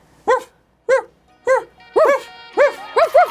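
A man imitates a dog barking with his voice, giving seven short woofs: three evenly spaced single barks, then a quicker, louder cluster of four, close and clear.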